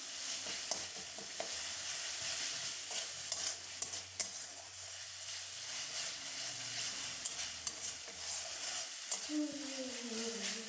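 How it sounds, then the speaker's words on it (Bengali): Ginger, garlic and onion masala frying and being stirred in a pan, a steady broadband sizzle with scraping spatula strokes throughout, fairly close, with a faint voice and a rising tone near the end. "এরপর আদা রসুন পেঁয়াজ আরও কিছু সময় ধরে ভালোভাবে কষিয়ে নেব"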